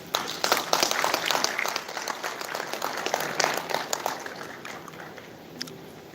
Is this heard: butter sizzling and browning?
no